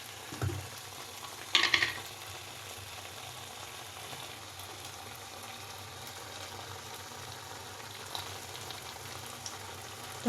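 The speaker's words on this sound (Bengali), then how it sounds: "আর একটু কষিয়ে নিয়ে আমি সবজিগুলো দিয়ে দেবো" Spices sauté in oil for a navratan vegetable dish, a soft, even sizzle running steadily throughout, punctuated by a few distinct stirring clatters against the pan.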